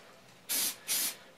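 Two short bursts of black aerosol spray paint hiss close by indoors, each about a quarter second long with a brief pause between them.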